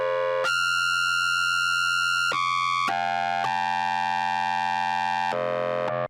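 A synth overtone patch built from two harmonic series with a random envelope, sounding as a sustained bright tone that jumps between stacked pitches in several abrupt steps, loud and alone with no voice.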